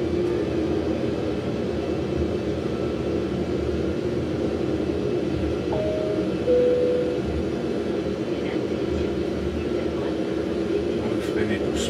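An airliner touching down with reverse thrust engaged, a steady, loud broadband jet roar filling the cabin without letup, with a faint tone briefly rising over it.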